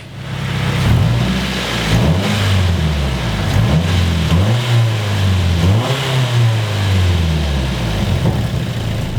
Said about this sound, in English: when you rev out the car, nothing on the inside rattles